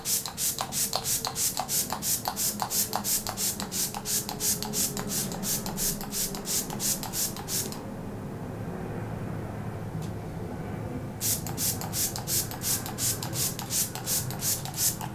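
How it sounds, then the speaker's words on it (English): Rapid, evenly spaced spritzes of a makeup setting spray misted onto a face hiss close by, pausing for a few seconds before the quick misting bursts resume. "now I'm going to get my Mini Fix Plus"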